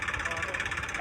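A soil-hauling vehicle's engine runs with a steady mid-pitched drone and faint vibration as it pulls away, moderately loud and close.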